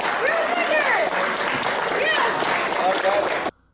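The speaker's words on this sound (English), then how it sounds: "Considering how much people are clapping," Loud applause from a crowd mixed with excited cheering and shouting voices, sustained throughout, then cutting off abruptly.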